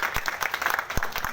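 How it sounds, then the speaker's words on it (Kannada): An audience applauds at an awards event for a team of car achievers, a short burst of scattered, moderately loud hand claps with uneven rhythm. "ಎಲ್ರಿಗೂ ನಿಮ್ಮೆಲ್ಲರ ಅದ್ದೂರಿ ಚಪ್ಪಾಳೆ ಮುಖಾಂತರ ಅಭಿನಂದನೆ"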